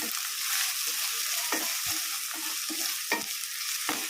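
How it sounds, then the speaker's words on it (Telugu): Broad beans fry in oil in a pan with a steady, bright sizzle, while a spoon stirs them in occasional scraping knocks up close. "చిక్కుడు అంతా మంచిగా నూనెలో మంచిగా ఇట్లా మగ్గించుకోవాలి"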